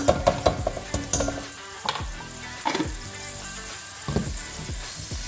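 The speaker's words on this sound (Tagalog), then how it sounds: "So, kasama siya sa paggigisa." Tomato paste and tomatoes sauté in a hot pan for a Turkish purslane dish, giving loud, close sizzling broken by repeated utensil clanks and scrapes against the pan.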